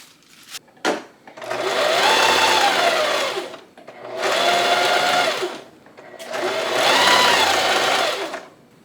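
A sewing machine zigzag-stitches fabric pieces together for a garment, in three long, close bursts of rapid mechanical whirring separated by short pauses, after a few brief clicks at the start.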